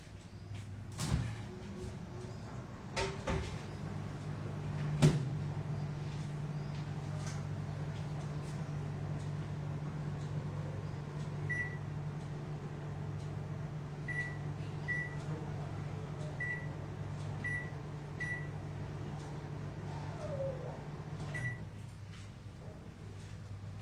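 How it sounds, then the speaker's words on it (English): An oven door thuds shut with a few clunks and knocks early on, then a steady low hum from the running oven continues, marked by occasional faint beeps, while a quiet voice murmurs in the background. "So I'll put it inside the oven."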